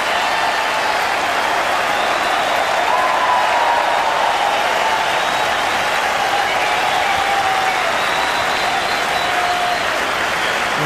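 A cricket crowd at a 1999 Test match against Pakistan applauds boundaries in a loud, sustained roar of clapping that holds steady throughout, with faint crowd noise beneath.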